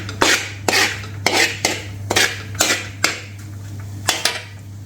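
Chicken cubes being cooked in a tomato onion gravy on a flat tawa, the metal spatula striking and scraping the pan in a steady run of sharp clanks about twice a second over a low hum.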